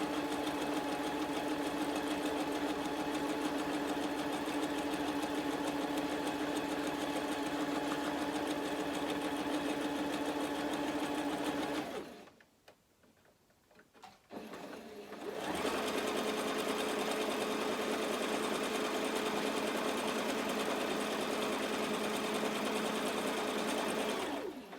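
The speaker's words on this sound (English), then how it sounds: "keep your needle down in your fabric, lift your foot up and spin your fabric round, and that gets a nice clean line of stitching." A sewing machine stitches fabric for a reversible tote bag, running a steady, close, high whirr. The stitching stops briefly partway through, then the machine resumes its even run.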